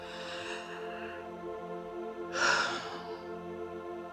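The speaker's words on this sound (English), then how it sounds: "Just breathe. Take a deep breath." A single deep breath drawn in and let out, loud and close, rising to a breathy peak partway through over a soft sustained musical background.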